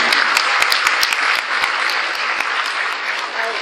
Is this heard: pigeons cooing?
no